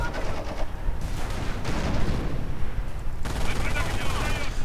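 Dense machine-gun fire from German Grenadier squads with light machine guns in a Company of Heroes EF mod 2v2 battle, continuous overlapping bursts and battle noise with faint speech underneath.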